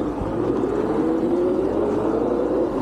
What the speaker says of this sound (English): I can't believe I'm out in the street with my snow bike.